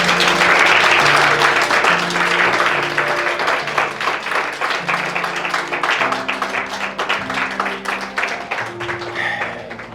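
A church congregation applauds loudly and steadily, dense clapping mixed with voices and a sustained musical tone underneath, slowly tapering toward the end.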